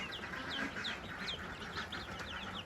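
Young starter-age ducks on a farm give rapid, high peeping calls in a busy overlapping chorus, steady and moderately close, with no voices.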